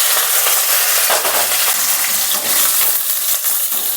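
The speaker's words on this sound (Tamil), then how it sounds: "இப்போது வெங்காயம் ஆட் பண்ணிக்கலாம்." Onion frying in groundnut oil sizzles steadily and loudly throughout, with a crackling hiss spread across the whole clip and no talking.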